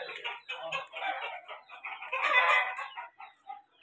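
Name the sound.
Aseel champion roosters clucking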